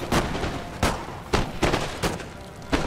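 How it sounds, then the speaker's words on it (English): Repeated musket volleys from line infantry firing on Highland foot in Napoleon: Total War street fighting in Dresden, five sharp broadband cracks spaced roughly half a second apart over a continuous battle din. "now my men can turn once again to fire at these Highland foot"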